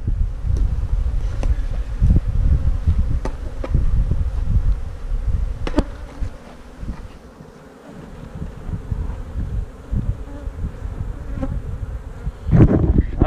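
Honey bees buzzing around an open hive outdoors, a dense, continuous droning swarm close to the microphone with brief louder passes as individual bees fly near, dipping slightly midway.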